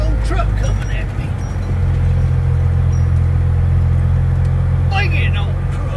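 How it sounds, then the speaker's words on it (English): A big truck passes close by a Freightliner on a test drive, a loud, steady low engine rumble filling the whole stretch, with voices talking over it. "big old truck coming at me"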